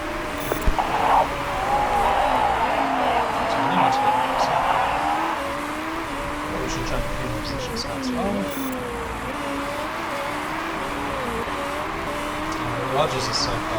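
Race cars lapping in the Motorsport Manager video game, engines droning and shifting pitch as they pass, with a brief tire squeal, while someone talks over them throughout.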